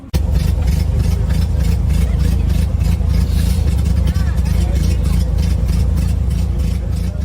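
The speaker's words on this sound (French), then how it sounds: "Le son de son moteur, ça donne quoi?" A 1924 Renault NN vintage torpedo car engine runs loudly and close, with a steady low rumbling idle and a rapid pulsing beat. A voice can be heard under the engine.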